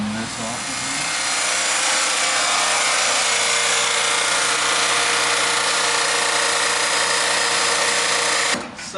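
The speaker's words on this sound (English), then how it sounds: "Let me just finish cutting this off." A power tool cuts off a metal part on a turbocharged Mazda RX-8 project car, producing a loud, steady, harsh grinding whine that runs unbroken for several seconds before cutting out abruptly.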